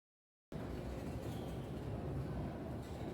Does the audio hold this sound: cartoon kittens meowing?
no